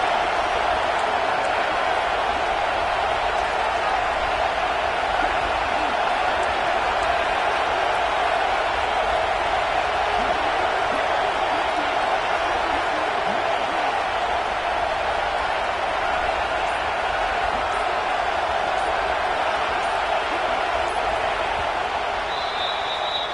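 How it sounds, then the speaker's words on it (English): Dense, steady roar of a football stadium crowd at a Florida Gators college game on a third down, loud and continuous throughout with no clear talk on top. "This crowd unhinged, trying to make sure the Gators don't back down on 3rd down."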